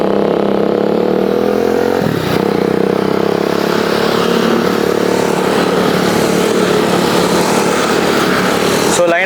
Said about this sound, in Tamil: ஸோ லைனாக பார்த்தீங்கன்னா வண்டி போக ஆரம்பிச்சிருச்சு